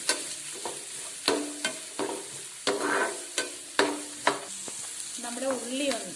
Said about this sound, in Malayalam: നമ്മുടെ ഉള്ളി ഒന്ന് വഴറ്റിയെടുക്കാം.